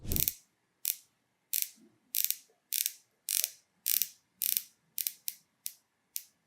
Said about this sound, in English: Now, I really liked the way the Pelagos bezel sounded.